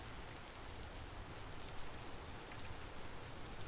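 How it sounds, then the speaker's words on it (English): Steady rain falls in the voxel survival game Vintage Story, a dense, even hiss of drops on the ground that holds at the same loudness throughout with no other sounds. "Rain is not helping."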